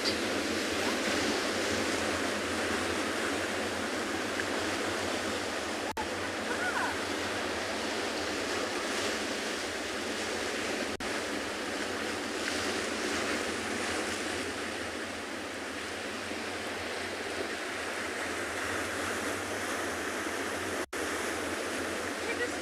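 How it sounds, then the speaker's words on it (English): Ocean waves washing into a small rocky crevice on a South African coast, a steady broadband surf roar with continuous wash and no distinct breaks, fairly close and constant throughout. "we're just gonna be quiet for a little bit, enjoy the sound of the ocean, and Jason's panning around this little crev"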